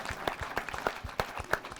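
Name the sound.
audience applause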